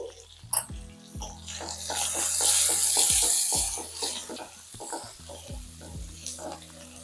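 Onions sizzle and fry in a hot pan while being stirred for kuzhambu with salt and turmeric, a steady close crackle punctuated by repeated scraping stirs, no talking.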